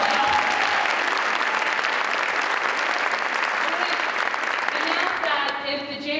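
Steady applause from a crowd at a school district address fills the space, dense clapping that holds for several seconds before thinning out as a voice begins to speak.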